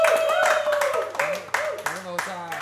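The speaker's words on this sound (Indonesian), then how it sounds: "Tepuk tangan." Audience clapping on a talk show set, a short burst of hands that quickly gives way to speech, with the clapping fading under the talking voice.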